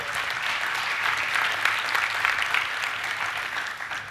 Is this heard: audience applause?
yes